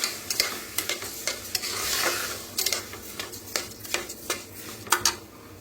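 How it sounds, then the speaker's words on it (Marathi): A spoon stirs mung dal mixture as it roasts in a pan, with repeated close scraping clicks against the metal over a soft, steady sizzle; no talking. "भाजून थोडंसं असं हलकंसं मिक्स करा।"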